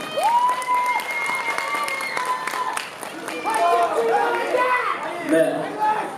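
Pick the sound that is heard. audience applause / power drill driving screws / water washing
audience applause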